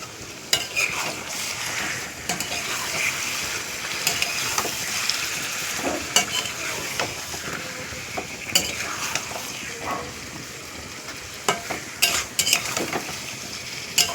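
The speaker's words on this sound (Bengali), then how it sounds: "আমি এবারে সেই ম্যারিনেট করা মাংসটা এতে ঢেলে দেবো, অ্যাড করে দেবো এর সাথে" Marinated beef goes into a hot pot for village-style beef kachi biryani, sizzling and frying steadily while a metal spoon scrapes and stirs against the pot in repeated close clinks, with no voices.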